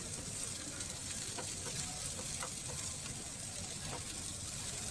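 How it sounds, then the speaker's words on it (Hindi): Onions softening in a pan for a mushroom tomato curry give off a steady, low sizzling hiss with faint stirring scrapes, continuous and close with no talk. "अच्छे से इसको फ्राई कर लेंगे"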